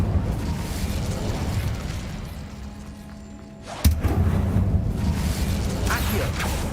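Incendio fire spell cast in Hogwarts Legacy, a sudden bright burst and whoosh of flame near the middle that follows a quieter stretch, then a fuller crackling roar of ambience.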